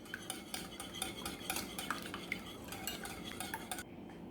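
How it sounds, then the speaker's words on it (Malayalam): A spoon stirs ground pepper and salt into a seasoning mixture in a bowl for bread toast, giving a rapid, steady run of close clinking and scraping strokes that stops abruptly near the end. "ഇനി ഇതൊന്ന് നന്നായിട്ട് മിക്സ് ചെയ്ത് കൊടുക്കാം."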